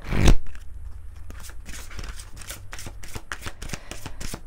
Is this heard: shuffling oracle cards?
yes